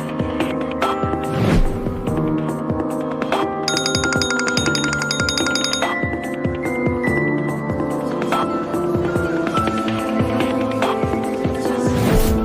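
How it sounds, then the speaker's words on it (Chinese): A telephone rings on and on without being answered in a wealthy family's household on a wedding day, its bright repeating tones loud and steady for the whole stretch, with music-like layers underneath. "少爷的电话一直没人接。"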